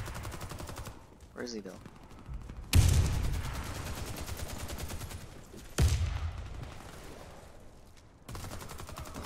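Heavy sniper rifle shots in a shooter video game: two loud, sharp cracks a few seconds apart, each trailing off in a long echoing decay, with a player talking briefly in between.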